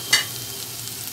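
Cinnamon pieces sizzle in hot ghee with partly boiled basmati rice, a short clatter at the start giving way to a steady, soft frying hiss with no talk.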